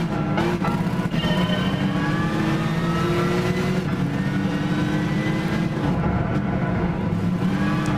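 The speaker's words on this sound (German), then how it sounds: "So, hier fahren viele geile Muscle Cars mit." Several muscle cars race together in Gran Turismo 6, engines revving hard with rising and falling harmonic whines, a dense, loud, continuous roar throughout with no talking.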